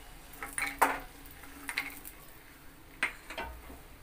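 Fried homemade bori, a sun-dried lentil dumpling, being lifted out of a pan of hot oil, with a few faint metallic scrapes and clinks of a utensil against the pan in quiet, sparse bursts.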